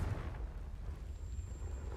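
The Confringo fire spell in Hogwarts Legacy bursts with a low, rumbling explosion, a heavy booming roar that lingers and churns evenly for a couple of seconds with a faint thin tone above it.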